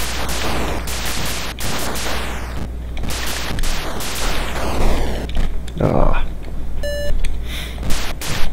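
Atari 2600 Star Wars: The Empire Strikes Back gameplay with busy electronic blasts and noise, followed near the end by a short series of clear high-pitched beeps standing out over the game sounds.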